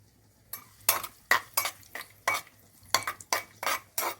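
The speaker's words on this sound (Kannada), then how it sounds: "ಈಗ ಬೇರೆ ಬಾಣಲಿಗೆ ಎರಡು ಸ್ಪೂನು ತುಪ್ಪ ಹಾಕ್ಕೊಡೋಣ ಈಗ ಹತ್ತರಿಂದ ಹದಿನೈದು ದ್ರಾಕ್ಷಿ ಹಾಕ್ಕೊತಾ ಇದ್ದೀನಿ" Raisins frying in ghee in a separate pan for poppy seed payasa, heard as a series of short, moderately loud scraping and stirring bursts with metal utensil clinks and a light sizzle, no talking.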